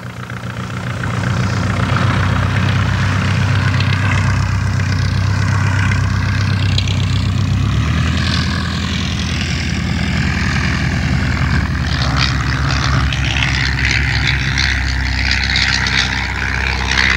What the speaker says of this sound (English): An aeroplane which saw much military service as a trainer was the DH-82, Tiger Moth.